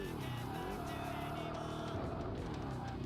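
A car braking hard in a Japanese touge racing video game: a loud, continuous engine drone with shifting pitch and a tyre-squeal edge, running steadily for about three seconds.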